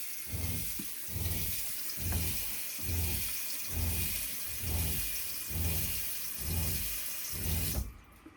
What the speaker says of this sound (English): Run a little water.